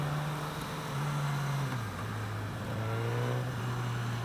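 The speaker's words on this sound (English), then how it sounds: "Stock exhaust, it's got a snarl." A 2016 Suzuki GSX-S 1000 with its stock exhaust, heard while riding as a steady droning engine note that dips and climbs with throttle changes, loud and close under wind noise.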